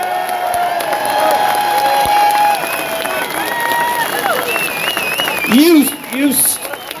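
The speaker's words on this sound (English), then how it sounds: "a big round of applause" Crowd at an outdoor people's assembly in Newtown Mount Kennedy breaks into sustained applause and cheering, a broad continuous wash with whoops and shouts, and voices rising through it toward the end.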